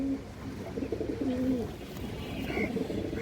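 A pigeon coos softly nearby in a loft, a female bird of the Bagha breed with Chhaya colouring, with low rolling calls over a steady background hum.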